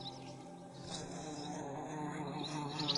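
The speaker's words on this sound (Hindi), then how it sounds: "इस तरह के वॉस्प के घोंसले में कई दर्जन वॉस्प रह सकते हैं।" Wasps buzz around their nest in a steady, continuous drone that swells slightly louder toward the end, close and with no voices.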